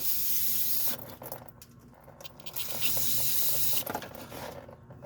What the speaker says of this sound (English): I'm just going to use some brake parts cleaner to clean that out